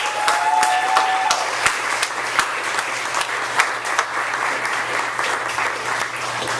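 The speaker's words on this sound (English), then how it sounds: "Another round of applause for Lamar Wilson." Audience applause for poet Lamar Wilson at a poetry reading, a steady dense clapping that fills the room for several seconds, with a few sharper individual claps standing out near the front.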